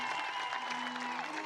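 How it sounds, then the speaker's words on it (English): Applause from a crowd at a high school baseball game, a steady distant patter of clapping with faint crowd murmur and a public-address voice over it. "a nice round, heartfelt round of applause here"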